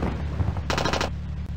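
Tank guns firing in the WWII tank game Across the Rhine, one short sharp crack of gunfire over a steady low engine rumble.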